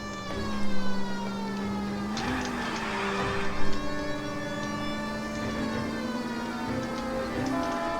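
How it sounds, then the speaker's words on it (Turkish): A police car siren wails loudly and continuously in a video game, its high rising-and-falling tone steady under engine rumble for the whole stretch. "Açalım sirenleri hemen hızlıca gidelim."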